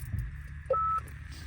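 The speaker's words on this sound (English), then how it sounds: "That's the phone." A single short tone beep from the built-in car telephone in a Jaguar XJ6 X350 3.0 petrol, clear and close, heard over a low engine idle rumble.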